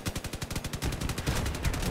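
Rapid cannon fire from vehicles in the combat game Crossout, a fast run of sharp, punchy bursts repeating without pause and growing heavier partway through, loud and up close.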